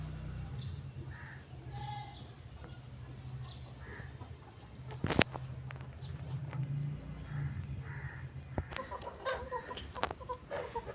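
Chickens cluck in short scattered calls around a rural yard where goats and hens are kept, with a sharp bang partway through and a low steady hum underneath.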